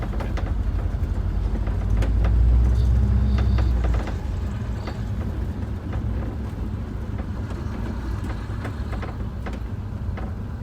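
A GM 4106 bus rolling along with no throttle, giving a steady low rumble of tyres and drivetrain with wind noise. The rumble swells briefly early on, then settles into an even drone, with no voices.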